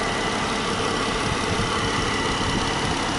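A 2014 Jeep Wrangler Unlimited Sahara with a 3.6-liter Pentastar V6 idles steadily, a low continuous engine rumble with faint vibration heard close up and alone.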